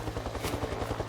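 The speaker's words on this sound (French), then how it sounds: "Un hélicoptère. Ils sont en train de nous chercher." A helicopter flying overhead, a rapid steady thumping of rotor blades with a rumbling low throb, fairly faint and continuous, with no voices.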